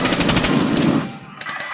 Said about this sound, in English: Yes, I do have the gun. Fire now.